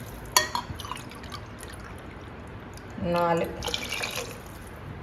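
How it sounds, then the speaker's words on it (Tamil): Water poured into a cooking pot for one-pot sambar rice, a short splashing fill heard under a voice speaking, after an earlier faint drip. "இப்போ இந்த சாம்பார் சாதத்துக்கு தேவையான தண்ணி ஊற்றிக்கலாம்."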